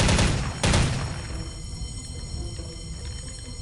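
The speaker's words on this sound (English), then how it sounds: "That was 3 grenades in like a minute" Grenades blast in Soldier of Fortune 2: Double Helix, with two heavy booms near the start followed by a rumbling, crackling decay and scattered debris.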